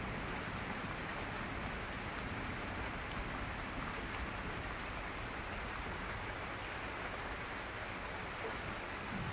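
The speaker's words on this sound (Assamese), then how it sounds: "খুব বৰষুণ সৰু সৰু বৰষুণ দি আছে" Light, fine rain falls steadily outdoors on a cool day near a pig pen, a soft even hiss that continues unbroken and fairly faint.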